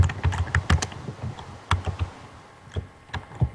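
Keys tapped on a computer keyboard to enter a Minecraft command: close, irregular clicks in short clusters separated by brief pauses, with no speech.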